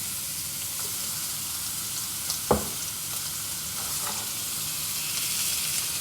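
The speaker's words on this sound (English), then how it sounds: "apparently the pan is a little bit too hot, so I'm gonna go in with a couple tablespoons of olive oil" Olive oil sizzles in a too-hot pan set to medium-high, giving a faint, even hiss with one sharp clack partway through. No one speaks.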